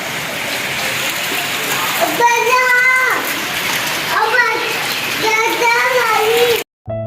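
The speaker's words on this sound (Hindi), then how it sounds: "तो बारिश हो रही है।" Rain falls steadily with a constant hiss, while voices, including a child's, talk over it in several stretches.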